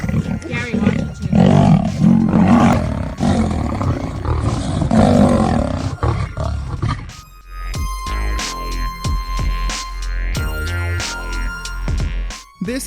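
A tiger and a lion fighting, with deep overlapping roars and snarls thundering loud and close for several seconds before giving way to music and a narrating voice.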